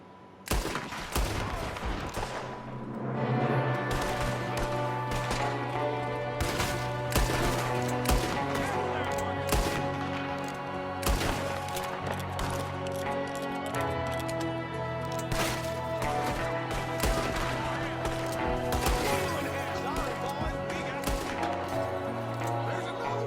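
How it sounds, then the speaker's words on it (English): Dense, continuous gunfire in Red Dead Redemption 2, with rapid overlapping shots and sharp cracks under game music over a sustained loud battle, including shooting from a window. "There's another one shooting from the window."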